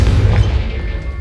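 A Confringo blasting spell in Hogwarts Legacy explodes as a deep, loud boom, heavy in the low end, and fades off steadily over about a second.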